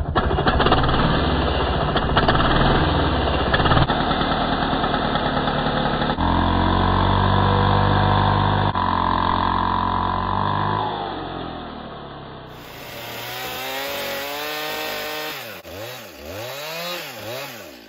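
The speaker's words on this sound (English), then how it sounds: "the second method you can use to cut these beams is with a chainsaw" A chainsaw roars steadily while cutting through timber-frame wooden beams for a long stretch, then drops to a rough idle with a few revving bursts.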